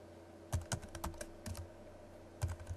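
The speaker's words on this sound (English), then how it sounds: "just follow along as I type in the coordinates." Coordinates typed on a computer keyboard, a quiet close run of uneven key clicks in small bursts with short pauses, over a steady low hum.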